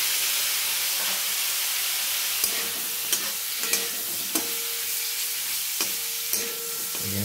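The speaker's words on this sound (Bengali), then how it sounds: "ভিনিগারটা দিয়ে আবারও একটু ভেজে নেব।" Chicken and broccoli fry in a pan after vinegar goes in, a steady close sizzle and hiss punctuated by several sharp clinks and scrapes of a spatula at irregular intervals.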